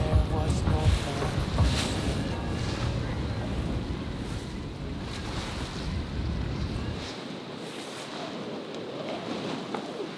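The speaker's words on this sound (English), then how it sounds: "That was a gust." Strong wind gust buffeting a sailboat off Curacao, a loud roaring rush of wind noise with water sloshing against the hull, heaviest at the start and easing toward the end.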